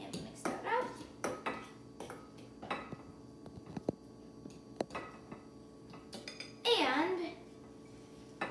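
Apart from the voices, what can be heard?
mixing deviled egg filling in a bowl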